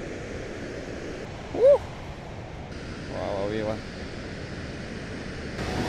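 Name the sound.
large waterfall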